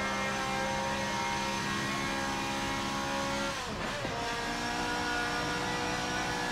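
Racing car engine in Forza Motorsport 7 drones steadily at high revs, briefly dipping as if shifting or lifting around the middle before climbing again, loud and continuous with no talk.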